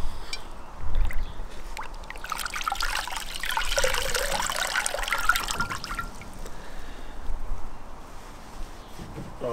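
Tap water runs and trickles as a flannel is wetted for a wet shave in a garden, the flow swelling in the middle then easing off to a softer dribble.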